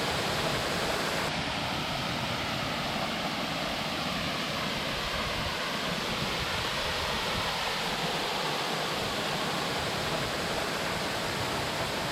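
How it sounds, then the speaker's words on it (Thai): Tham So Nuea waterfall on Phu Kradueng roars as a dense, steady rush of falling water, broad and unbroken throughout, close and enveloping with no voices. "กับน้ำตกถ้ำสอเหนือ จุดหมายหลักของผมในวันนี้ครับ"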